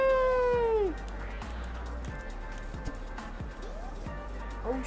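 Cats in hats meowing in the Heist Kitty video game, several drawn-out and rising meows in sequence, fairly close and clear over soft game sounds.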